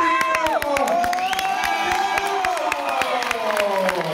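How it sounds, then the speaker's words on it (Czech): An audience at a dance group competition cheers, whoops and claps loudly in a dense, continuous crowd roar with children's shouts and sharp clap transients. An announcer's voice is heard through the noise. "pojďte zatleskat ještě jednou, tady jsou!"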